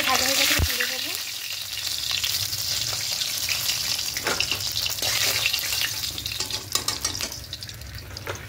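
Tilapia fish pieces shallow-frying in hot oil until crisp and browned. A steady, close crackling sizzle runs throughout, with a brief clatter near the start and faint spatter pops.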